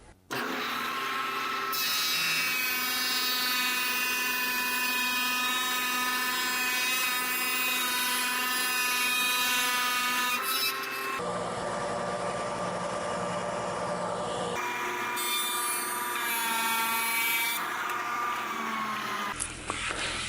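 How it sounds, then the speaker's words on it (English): A planer with a helical carbide cutter head and 2-horsepower motor thins wood boards for flat panel cabinet doors, a loud, steady, close cutting whine with a brief change in pitch partway through and no talking. "for a heavy pass, it's tough to beat a helical carbide cutter head and a 2-horsepower motor"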